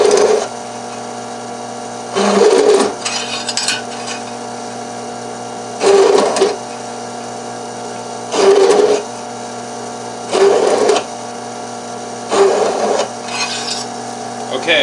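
A drill press at its slowest speed bores pin holes in a steel fixed-blade knife blade, giving five evenly spaced bursts of grinding, rasping cutting close by, separated by a quieter steady motor hum.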